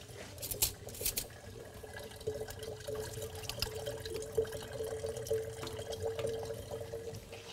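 Tap water runs steadily into a pot in a home kitchen, a moderate gurgling stream with a low background hum and a few brief clinks near the start.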